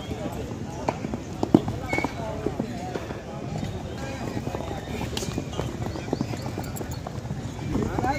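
Horses run at the Sonpur fair horse market, hooves clip-clopping in quick irregular beats on the ground, fairly close and continuous amid a busy outdoor crowd, with people talking over them.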